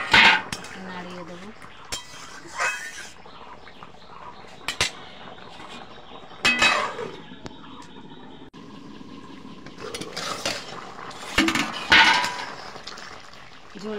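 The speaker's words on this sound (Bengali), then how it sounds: "নাড়িয়ে দেব।" Taro and hilsa fish curry stirred in a pan, with irregular clinks and scrapes of a utensil against metal coming in bursts at moderate loudness, separated by quieter gaps.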